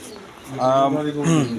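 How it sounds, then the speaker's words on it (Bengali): High-flying Giribaz pigeons cooing close by, two drawn-out throaty coos one after the other. "হাই ফ্লাইং গিরিবাস কবুতর"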